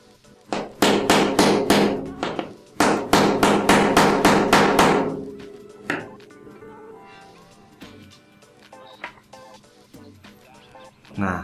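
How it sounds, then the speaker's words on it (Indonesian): A coil seal is hammered into place on an RBK coil for a Voopoo Drag 3 in two loud bursts of rapid metallic taps, followed by quieter scattered knocks and handling sounds. "Ini bisa kita pukul agak keras supaya si sealnya itu bisa masuk ke dalam."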